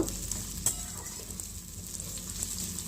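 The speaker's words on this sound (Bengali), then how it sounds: "পেঁয়াজটাকেও কুচি কুচি করে দিয়ে দিয়েছি হালকা ভেজে নেওয়ার জন্য" Finely chopped onions, with dried chillies and garlic, sizzle lightly in mustard oil for a kalo jeera bharta, a soft continuous close crackle with occasional stirring and no talk.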